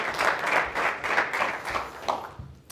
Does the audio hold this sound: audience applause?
yes